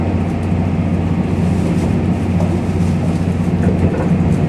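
An express train rumbles steadily nearby as it arrives at Aomori Station, Japan, with a low mechanical drone and faint rail clatter, no voices.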